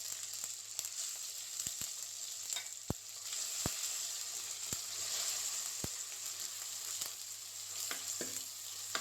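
Tomatoes and green chilies sauté in hot oil with chili and coriander powder for an anchovy fish curry, a steady close sizzle with a few sharp clicks of a spoon stirring the pan.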